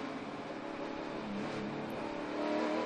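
A pack of NASCAR-style race cars roars at the start of a race, a dense, continuous engine rumble that swells slightly as they accelerate away.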